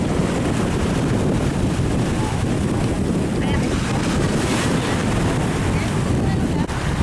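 Open-top longtail wooden boat running at sea with a steady loud engine drone mixed with wind buffeting and water rush, continuous and close throughout.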